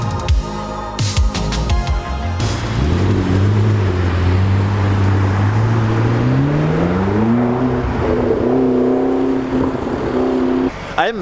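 A Liberty Walk Lamborghini Aventador on a London street throws out a loud, close rev that climbs steadily in pitch, holds high with a rough burbling edge, then drops away, after a few sharp pops at the start.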